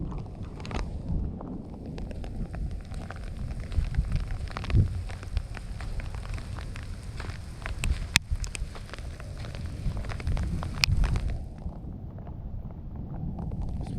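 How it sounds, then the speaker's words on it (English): Rain falls in the desert during a monsoon storm with strong gusty wind, a steady dense hiss of drops on surfaces with rougher wind bursts throughout, heard alone without talk. "What the desert looks like when it's raining."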